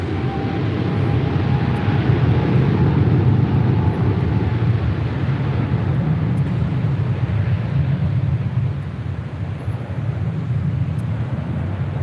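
Jet airliners, including an Air France 777, taxi at Los Angeles International Airport, producing a continuous loud engine roar and rumble with wind noise throughout and no voices.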